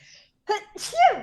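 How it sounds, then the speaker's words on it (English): A single person's sneeze, close and clear: a short sharp inhale followed by a bursting exhale, alone with no talking over it. "I have to sneeze."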